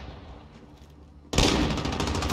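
Sudden burst of heavy automatic gunfire in Call of Duty: Modern Warfare (2019), loud and dense after a quieter stretch of game ambience, continuing as rapid overlapping shots.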